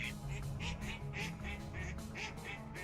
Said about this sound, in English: I have to kill the generation 4 ducks.